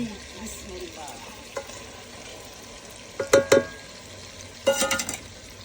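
Dry meat on the bone is lightly fried in a village kitchen, with a soft sizzle in the background broken by a few louder clattering scrapes of a spoon against the pot.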